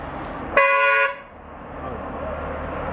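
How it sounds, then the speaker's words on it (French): A single short bus horn blast sounds over steady road noise on a highway, about half a second long, fairly close and loud. "Et l'horreur des bus qui klaxonnent."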